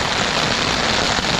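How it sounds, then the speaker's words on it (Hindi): Steady heavy rain drums on a camping tent high in the Himalayas near Chandrashila peak, a dense continuous hiss without pause, close and loud, with no voices. "भाई, माहौल इतना खतरनाक हुआ है बारिश का भी"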